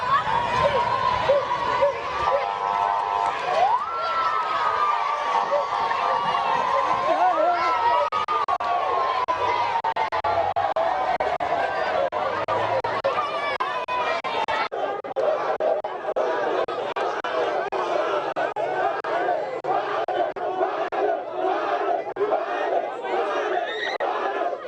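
A frenzied crowd outside a police station as a dancehall musician is escorted out, loud continuous chatter and shouting from many voices, with cries rising and falling close by.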